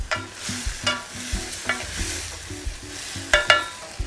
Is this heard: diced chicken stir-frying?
yes